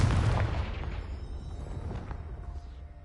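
Confringo spell explosion in the video game Hogwarts Legacy, a loud deep boom at the start that rumbles and fades away over a few seconds, no talk.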